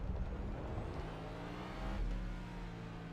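A NASCAR Cup race car in iRacing on the Indianapolis road course gives a steady, droning engine roar that swells slightly, with no talk over it.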